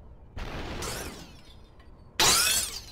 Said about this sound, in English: I can punch the glass